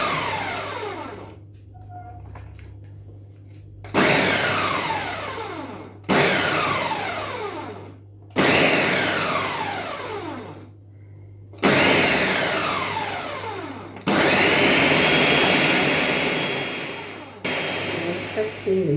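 Blender pulsing pasta sauce: loud whirring bursts of a few seconds each, repeated six times with brief quiet gaps between, the motor whine spinning up and tapering in every pulse.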